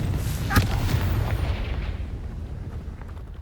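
A Confringo blasting spell explodes in the Hogwarts Legacy video game: one sharp, loud blast with a deep rumbling tail that fades over about three seconds.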